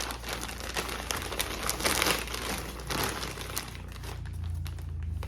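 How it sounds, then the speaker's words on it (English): Crinkly plastic packaging holding a 100% cotton shirt is ripped open by hand, giving close, uneven bursts of crumpling and tearing that rise and fall in clusters, with no talking. "So we're going to rip it open"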